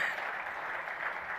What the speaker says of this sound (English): Have a huge round of applause for those beautiful and funny pictures